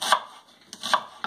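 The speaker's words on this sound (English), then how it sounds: "Then I peel the onion and cut" A peeled onion being cut with a knife on a board: two or three sharp, close chops in quick succession, with a short pause between them and no talking.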